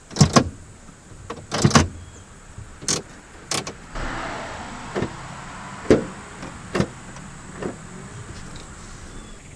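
Interior switches and selectors of a Honda Civic EF (ED4) clicking one after another, a series of sharp, close, crisp clicks and snaps spaced irregularly with quiet cabin hiss between them.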